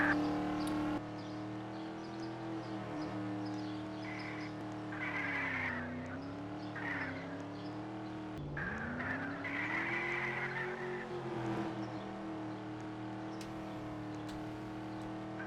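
A car driving in the Roblox game The Grand Tour, a steady synthetic engine drone that rises and falls in pitch through gear changes, with brief squealing tones over it, continuous and moderately loud.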